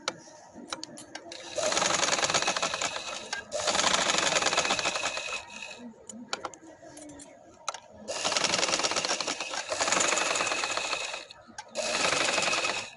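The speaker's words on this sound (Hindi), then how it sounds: "इसके किनारे किनारे पे ऐसे सिलाई आपने लगाते हुए इसको कंप्लीट कर लेना है।" A sewing machine stitches along the edges of a doubled-fabric pillow cover in four long runs, each a few seconds of steady mechanical whirring, separated by short pauses with faint handling sounds.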